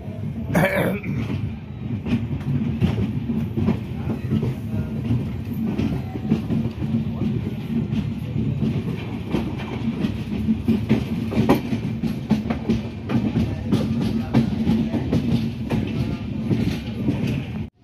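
A passenger train travels the Konkan line from Diva to Ratnagiri, heard from inside the carriage as a continuous loud rumble with rhythmic clickety-clack of wheels over rail joints, plus an occasional nearby cough.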